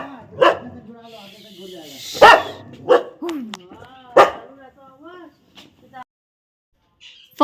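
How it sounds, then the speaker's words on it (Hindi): A dog barks repeatedly at visitors arriving at a house at 5 a.m., several close, loud yaps in an uneven series, with a voice speaking between barks before a brief quiet. "ये उनका डॉगी था जो हम लोगों को देखकर भौंक रहा था"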